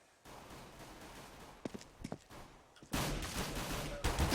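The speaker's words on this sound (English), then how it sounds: "Some shots down middle, some shots at T stairs" Gunfire in the CS:GO video game during a LAN tournament match, with a few sharp isolated shots in the first half followed by a dense, louder burst of rapid fire toward the end.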